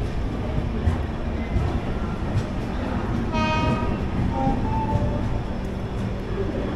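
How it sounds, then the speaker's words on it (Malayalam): A train hauled by a WAP-7 electric locomotive of the Pune shed, number 37147, rolls into platform 4 of a busy station amid a steady rumble and crowd noise, with a short horn blast in the middle. "അതിലോട്ടൊരു വാബ് 7 കയറി വരുന്നുണ്ട്."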